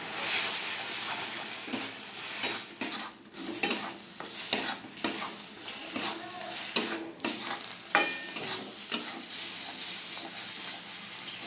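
Grated coconut being stirred into mashed banana stem in a pan, with repeated close scraping and clinking of a utensil against metal over a soft sizzle, in irregular bursts throughout.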